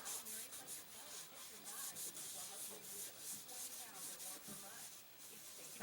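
An animal horn, dirty but just wiped clean, being sanded by hand: steady, quiet scratchy rubbing strokes in a soft repeating rhythm, close up, with no talking.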